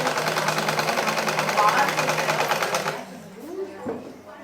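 Sewing machine stitching churidar pants, a fast steady mechanical whir running loud for about three seconds before stopping, followed by quieter handling noise and brief talk.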